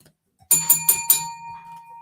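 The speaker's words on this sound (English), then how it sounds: "First ring of the bell." A boxing ring bell clangs four quick, bright strikes in a row, then rings out with a sustained metallic tone that slowly fades, loud and close.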